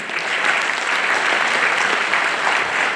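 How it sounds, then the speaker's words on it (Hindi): Steady, dense applause from a school audience honouring class 10 students at an annual event's farewell segment, filling the hall evenly for the whole stretch with no voices on top. "पहले इनके लिए तालियां होनी चाहिए।"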